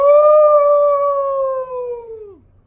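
A storyteller imitates a long, mournful howl at the sky, a single clear sustained tone held for about two seconds before sliding down and fading out, close and alone.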